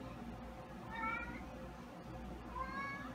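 A cat meows twice, close by and fairly soft, with short rising-and-falling calls over a low background hum.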